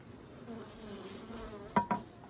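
A steady low buzz of honey bees from a late-summer hive in August hums quietly throughout, with two brief louder clicks or knocks near the end.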